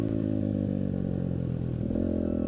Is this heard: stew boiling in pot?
no